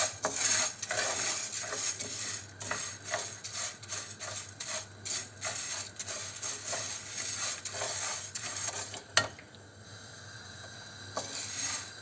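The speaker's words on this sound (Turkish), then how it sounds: "yarma dediğimiz buğdayı döküyoruz ve sürekli kavurarak e, çevirerek onun istenen kıvama gelmesini sağlıyoruz" Cracked wheat is dry-roasted and stirred in a pan over the stove, giving a steady soft scraping and rubbing with occasional light clinks of utensil on metal, fairly quiet and close.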